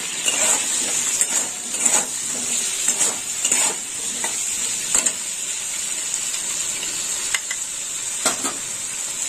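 Fish curry spice paste for rohu with potato and pointed gourd being stirred in a pan, a steady close scraping and gentle sizzle with repeated spoon knocks against the metal, no talk.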